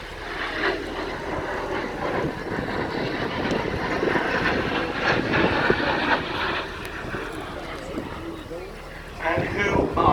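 Messerschmitt Me 262 jet flying at a British airshow gives a broad, rushing roar that swells and holds for several seconds, then briefly dips before rising again near the end.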